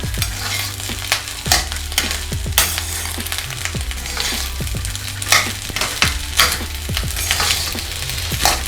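Egg rice with coriander is stirred in a sizzling pan, the spoon scraping and tapping in repeated strokes over a constant close frying hiss.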